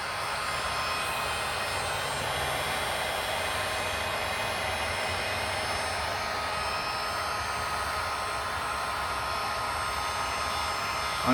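A heat gun on its lowest setting blows hot air onto a BMW M badge to soften the adhesive, giving a steady, unbroken close-up rush that lasts throughout with no other sounds.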